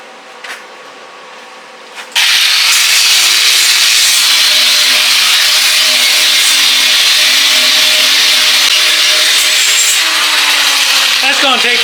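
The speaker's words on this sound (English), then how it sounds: "Now we got to get all the rust off and get this thing ready for paint." Loud, steady power-tool grinding strips rust from a welded steel pipe passenger handle being fabricated for an Intimidator 750 Classic side-by-side, starting abruptly after a quiet moment and running continuously with slight pitch shifts.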